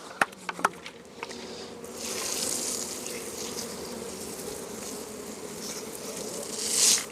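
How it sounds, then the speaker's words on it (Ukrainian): A dense, steady hum of many honey bees buzzing close by at a hive in autumn. A few sharp clicks come at the start, and the drone swells near the end. "Все, бджоли готові до зими, контрольна обробка."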